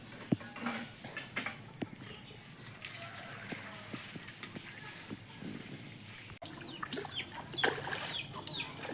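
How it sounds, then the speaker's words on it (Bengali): Frightened chickens cluck and squawk in a village yard, with several close, uneven bursts of clucking through the clip. Soft speech can be heard faintly in the background. "মুরগিগুলো সব ভয় পেয়ে গেছে"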